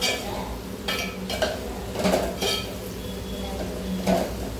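Spice powders (sambar, chilli, turmeric and coriander) sautéed in a pan for a Tamil garlic kulambu, heard as a few clinks of a spoon against metal over a soft, low sizzle.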